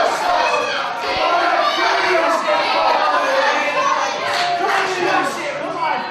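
A wrestling crowd at a live Irish Whip Wrestling event roars and cheers steadily, with a dense swell of shouting voices and occasional louder whoops rising out of the noise.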